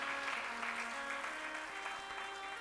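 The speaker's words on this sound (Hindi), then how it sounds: "एक बार तालियों के साथ में आदर कीजिए" Applause from an audience at a Hindu religious discourse honouring guests, faint and steady under a sustained tonal drone, continuous through the clip.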